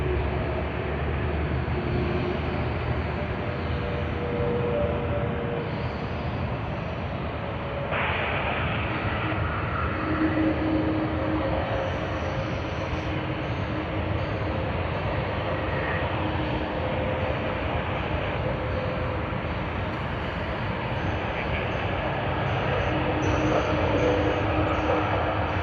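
An Airbus A330-200 from Auckland at Sydney Airport gives a continuous, fairly distant jet engine roar, steady throughout, with faint shifting tones over the drone.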